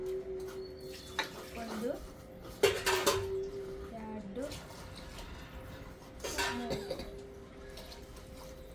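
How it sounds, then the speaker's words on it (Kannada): Glasses of water poured into a metal pot of rice for egg biryani in two short splashing bursts, with pot and utensil clatter while a person counts aloud. "ಸೊ ಅದಕ್ಕೆ 3 ಗ್ಲಾಸ್ ನೀರು ಹಾಕೋಕೊಂತೀನಿ"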